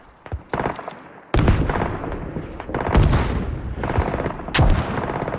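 Mortar fire in a multiplayer war game match, heavy booming impacts landing one after another, several sharp loud blasts over a continuous rumble of distant battle.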